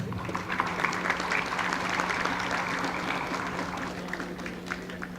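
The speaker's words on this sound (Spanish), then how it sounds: "Solicito recibamos con un fuerte aplauso" Applause from the audience at a municipal public-accounts training session as a speaker is welcomed, a fairly soft, even wash of clapping held for several seconds, with a low steady hum from the room underneath.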